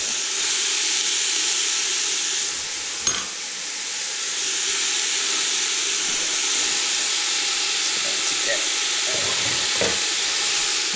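Vegetables for a veggie pasta sizzle and steam in a hot pan, a steady, loud broadband hiss that runs throughout with a few brief clicks and stirring knocks.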